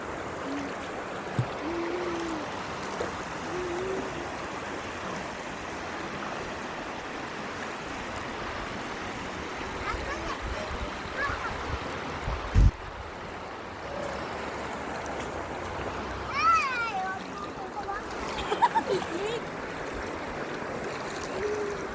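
Water at Elbow Falls rushes as a steady, soft broadband hiss, fairly distant and quiet, with a brief faint voice-like sound near the end.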